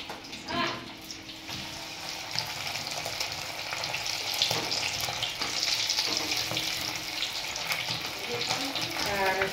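Fish frying crisp in a pan, a steady crackling sizzle close by with bursts of spitting oil and light clatter throughout.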